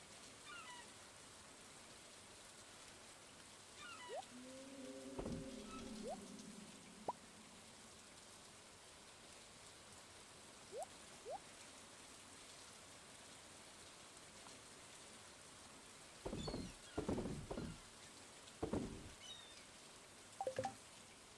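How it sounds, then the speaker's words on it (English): Steady rain falls in the Stardew Valley video game, a soft continuous patter across the whole stretch, with a few brief game chimes and louder plopping effects toward the end. "it is a rainy day"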